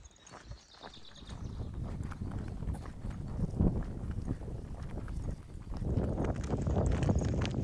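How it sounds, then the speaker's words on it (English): Horse hooves clip-clop steadily on a hard surface, close by and fairly loud, with a light wind rumble underneath. "It is a real horse."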